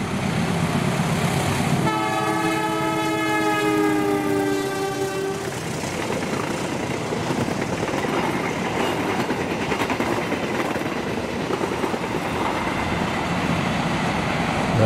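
Indonesian passenger train Airlangga 236 passing on the main line, opening with a long, loud horn blast and followed by steady rumbling and clattering of cars rolling by close to the listener.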